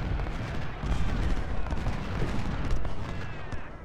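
Artillery fire from the Ultimate General: Civil War strategy game, a dense continuous rumble of overlapping cannon booms and crackling gunfire, loud and sustained with no gaps.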